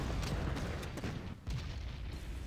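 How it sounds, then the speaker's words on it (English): Artillery fire in the strategy video game Panzer Corps, a few muffled booms and bursts coming in quick succession over a dense, low rumbling backdrop. "Yeah, there's artillery."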